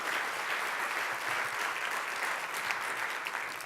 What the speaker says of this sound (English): I'd like to a warm applause for Steve and Alpha.